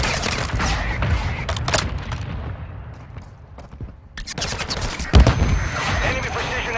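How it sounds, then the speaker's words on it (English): A mortar strike in the mobile battle royale game Warzone Mobile on Verdansk: rapid bursts of gunfire-like blasts and booms, a brief lull in the middle, then another heavy cluster of impacts. "Mortar strike inbound now."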